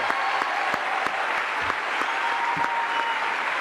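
A TV studio audience applauds a singer on a French variety show with continuous, even applause from the whole crowd, a few louder individual claps standing out from the wash.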